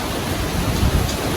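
Steady, strong typhoon wind during Typhoon Ulysses, a dense continuous rushing hiss with slight low gusts, no voices.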